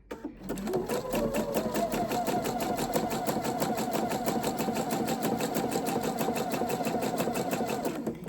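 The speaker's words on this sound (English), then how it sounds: "And you're trying to sew over the seam, the shoulder seam, if at all possible." A sewing machine stitching elastic over a shoulder seam on a Simplicity 8656 pattern garment, a close, fast, even rattling whir that starts abruptly and runs steadily for about eight seconds without pause.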